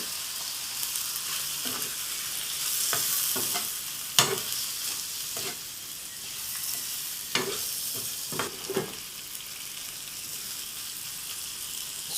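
Prawns sizzling in a hot pan seasoned with salt, ginger powder and Cameroon pepper, a steady bright frying hiss broken by repeated spatula clacks and scrapes as they are stirred.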